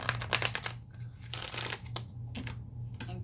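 A Numinous Astro astrology card deck being shuffled up close, a run of quick papery riffles and soft slaps over a low steady hum, pausing briefly before the shuffling starts again.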